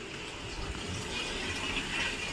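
Water running from a tap into a bucket at home, a soft, steady filling gush heard fairly faint and continuous with no voices.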